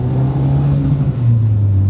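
Garrett GTX turbo on a 350 hp Nissan Pulsar GTI-R, a loud close engine drone with a high whistling spool tone over a steady rumble that shifts pitch as the revs change.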